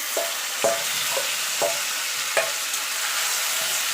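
Spiced, marinated chicken pieces frying with browned onions in a pan, a constant sizzle broken by several sharp stirring scrapes at a steady pace, close and clear with no talking.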